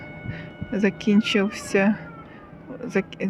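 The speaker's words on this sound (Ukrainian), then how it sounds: "Сирена звучить, коли зміна закінчується." Port siren sounding to mark the end of a work shift at a seaport, heard as a steady tone under nearby Ukrainian speech, with someone talking over it through most of the moment.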